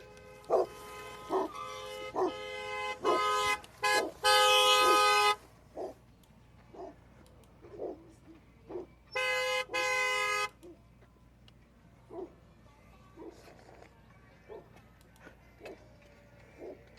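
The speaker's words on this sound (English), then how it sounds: "Keep honking." A car horn honks in short bursts and two longer blasts, loud and close, mixed with repeated dog barks in the background.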